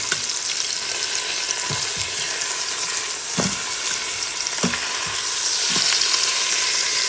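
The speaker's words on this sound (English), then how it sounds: "And a little bit of avocado oil, and just going to saute it first in the Instant Pot, give it a little color." Food sautéing in avocado oil inside an Instant Pot gives a steady, close sizzle, with a few sharp scrapes and clicks of stirring spread through it and no voices.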